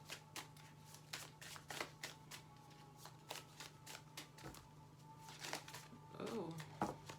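Tarot cards shuffled and drawn during a collective reading, a run of quick crisp riffles and soft slaps close by, with a brief voice near the end.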